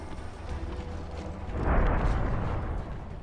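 In Prince of Persia: The Forgotten Sands, an explosion swells up as a muffled, rumbling roar over a low gameplay background, peaking briefly after the midpoint and then tapering off.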